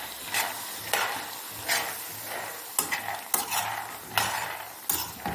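Salted peanuts roasting in a hot pan are stirred quickly with a utensil, producing repeated close scraping strokes and rattling every second or so over a faint sizzle.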